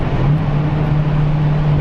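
Steady engine drone from an 840-horsepower orange Dodge Demon cruising past slowly, a continuous low hum held at even loudness throughout.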